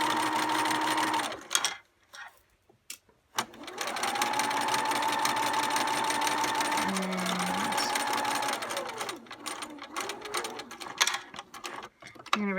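A domestic sewing machine stitches a quilt block in a steady, loud mechanical whir, pausing briefly and then restarting, with a shifting pitch and ratcheting clicks toward the end. The machine sounds like it needs oil.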